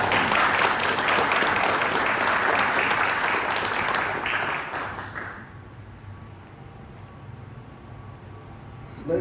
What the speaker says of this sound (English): please give a well-deserved round of applause for today's graduates